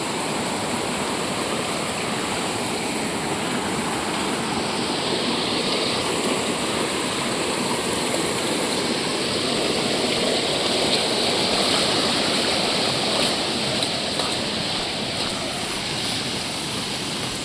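Spring water runs in a stream through rainy Konkan forest, giving a steady, dense, unbroken rush that stays close and even in loudness from start to finish with no voices.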